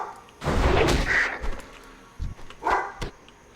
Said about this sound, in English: my dogs are barking like crazy